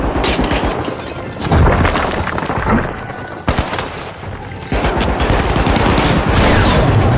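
Video game combat with loud, continuous booming blasts and crackling gunfire, a frag grenade explosion among them, the roar dipping briefly twice before surging back.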